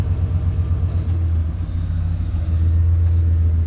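A 1995 Ford F-150 pickup engine with single exhaust idles close by with a deep, throbbing low rumble that swells slightly louder toward the end.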